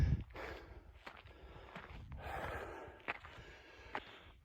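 A solo hiker on the Chimney Rock Trail in Capitol Reef National Park breathes heavily while walking, with quiet gasping breaths and faint footsteps on a dirt trail. The setting is otherwise still.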